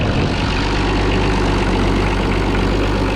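A steady, loud low engine idle rumbles on without a break, a deep constant throb with no voices over it.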